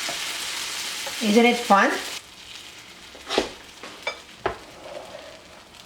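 Eggplant omelette (tortang talong) sizzles in a very hot waffle maker, a soft frying hiss with a few sharper clacks and bumps, while someone talks over it.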